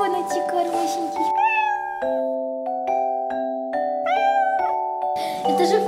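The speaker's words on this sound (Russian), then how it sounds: "Да вот, какой котеночек хорошенький." A kitten meows in a cartoon-style game, drawn-out pitched mews repeating several times, loud and close over steady tonal background sounds.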